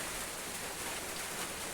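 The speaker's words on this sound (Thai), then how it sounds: "ฝนตกด้วย" Steady rain falls in a dense, even hiss that continues unbroken and fills the whole stretch without pauses.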